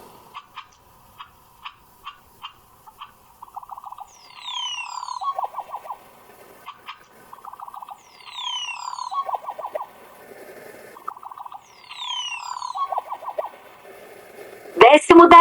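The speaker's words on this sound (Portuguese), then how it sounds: "Agora veja o canto do japu" Crested oropendola (japu) song, repeated liquid gurgling phrases with sharp descending whistles, recurring in three bouts against quiet, ending in a brief loud burst.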